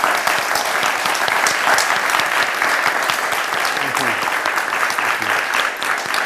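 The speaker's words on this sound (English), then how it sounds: "Please give us a round of applause." A studio audience on a Vietnamese talk show bursts into loud, sustained applause, dense and even throughout with no talk over it.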